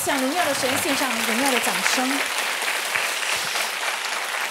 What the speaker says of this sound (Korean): 여호와 하나님께 영광의 박수를 보냅시다